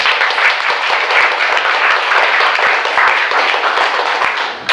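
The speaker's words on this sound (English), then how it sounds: "I think that the play and Lael's work deserves a special round of applause." Loud, sustained applause from a theater audience after a play, with many hands clapping in a dense, even roar that barely fades near the end.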